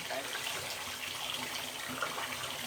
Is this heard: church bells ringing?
no